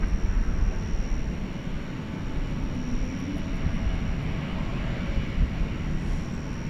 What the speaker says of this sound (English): Departure is Cathay 875.